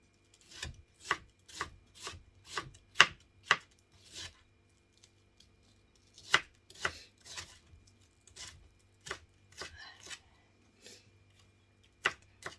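Sharp, rhythmic knife chops through an onion on a cutting board, clustered in short bursts with brief pauses between, fairly close and distinct.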